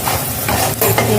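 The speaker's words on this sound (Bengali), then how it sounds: "এবার আমি পনিরগুলোকে ছেড়ে দেবো" Paneer drops into a bubbling, oily gravy in a pan for a cashew paneer dish, and a loud, steady close sizzle and bubbling continues throughout with no voices.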